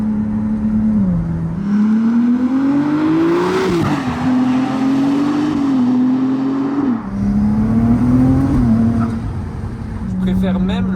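Ferrari 296 GTB sports car engine revs up and down in sweeping rises and falls, loud and close, with a brief higher surge midway and someone speaking over part of it.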